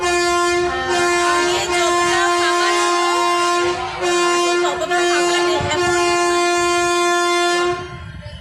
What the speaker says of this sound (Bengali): ট্রেন এখনও একটু থেমে গেছে আবার চলছে